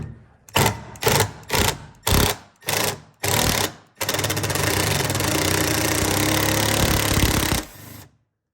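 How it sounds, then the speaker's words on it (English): A 12-volt impact driver hammers out the mirror screws on a Mazda RX-7 FD. Six short, loud rattling bursts come in a steady rhythm, then one long continuous hammering run that stops abruptly. Close and clear, with no voices. "I'm going to use a 12-volt impact, just give it light taps."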